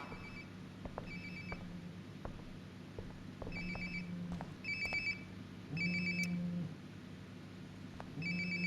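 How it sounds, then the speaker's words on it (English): A phone rings repeatedly in the video game Life Is Strange Before the Storm, its electronic ringtone pulsing in regular bursts, fairly faint and nearby, with no talk over it. "Sounds like my phone is definitely nearby."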